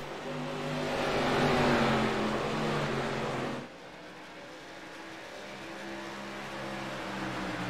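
ARCA series stock cars racing around a track, a loud pack roaring past close by before the engine drone drops away abruptly, leaving a more distant, steady hum of cars circling.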